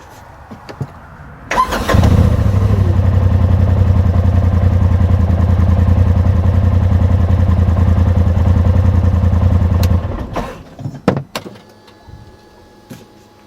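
A 2020 Polaris RZR XP Turbo Stealth Black cranks and fires up, settling into a steady, loud, close idle for about eight seconds before shutting off, followed by a few scattered clicks and knocks.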